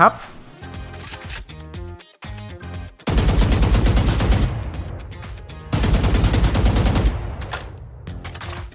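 Shots from a Neptune-skinned gun in Valorant, with clicky reload and equip sounds followed by two long, loud bursts of rapid automatic fire separated by a short gap.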